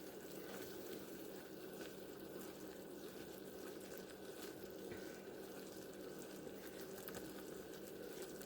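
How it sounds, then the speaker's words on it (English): A chocolate peanut butter no-bake mixture boils in a pot, a constant low bubbling and hissing that stays even and fairly faint throughout with no voices. "Got about a minute more to boil."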